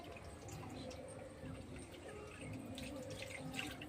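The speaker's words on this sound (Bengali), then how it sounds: "এই দেখো শিব ঠাকুরকে এখন স্নান করিয়ে দিই" Water poured over a Shiva idol during a ritual bathing at home, a faint trickling and splashing stream with small drips, continuous and close but quiet.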